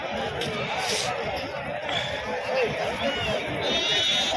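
Large rams bleat at a busy livestock market in Pebbair, their calls rising over a steady crowd babble and nearby talk for a few seconds.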